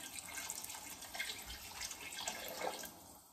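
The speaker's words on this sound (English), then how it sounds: "I'm just going to pop a little bit of water in just to bring those water levels up a little bit" Water is poured from a tap into a cooking pot of roasted pumpkin soup, a brief, close, gentle splashing and trickling with no talk.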